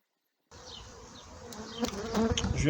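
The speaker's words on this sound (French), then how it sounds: "Je vais retirer les abeilles" Honeybees buzz around a hive frame while a queen-rearing colony is being worked, a dense close swarm drone starting after a brief silence and building louder, with sharper handling knocks toward the end.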